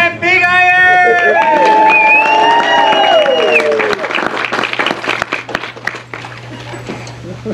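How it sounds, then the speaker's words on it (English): Audience at a wild west show in Tombstone, Arizona claps loudly through most of the stretch, mixed with cheering voices and a crowd hubbub, the applause thinning into scattered claps toward the end. "What are you all clapping for?"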